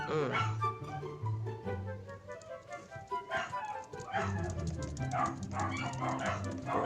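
Dogs bark and yip intermittently over a continuous musical background, fairly busy and cluttered.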